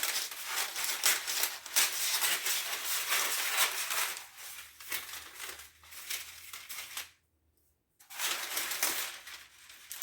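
Parchment paper crumpled and crinkled by hand during veggie burger prep, a dense continuous rustling and crushing that runs loud for about seven seconds, breaks off into near silence, then resumes.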